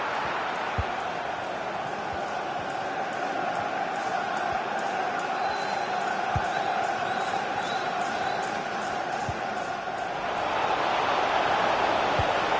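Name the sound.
football stadium crowd in video game EA FC 24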